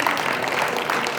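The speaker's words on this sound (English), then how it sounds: "Give yourselves a huge round of applause." Convention crowd applauding, a steady dense patter of many hands clapping at moderate volume for a short stretch.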